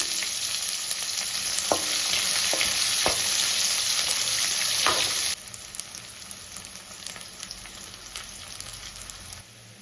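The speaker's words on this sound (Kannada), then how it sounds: "ಆನಿಯನ್ ಚೆನ್ನಾಗಿ ಫ್ರೈ ಆಗಿದೆ" Onion frying in a pan gives a loud, dense hiss of sizzling oil with a few spoon knocks, then the hiss drops abruptly to a quieter crackle with light ticks.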